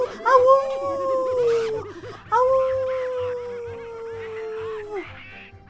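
Several people howl together in imitation of dogs, two long sustained wavering howls with a short break between them, loud and close, and a brief exclaimed voice at the start.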